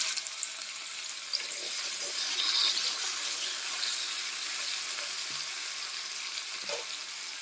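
Cut potato pieces fry in a pan for a home-style chicken curry, producing a soft, even sizzling hiss throughout with occasional faint clicks.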